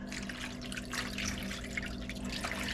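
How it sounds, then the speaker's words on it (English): Famous Dave's sweet and spicy pickle juice pours over chicken wings in a steady, soft trickle and splash, faint and close. "Pour in your favorite pickle juice."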